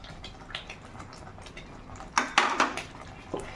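Paneer cubes dropped into a pan while cooking paneer angara, giving a burst of clattering pan and utensil knocks midway after quieter kitchen handling, close and fairly loud.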